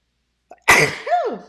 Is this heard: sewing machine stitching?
no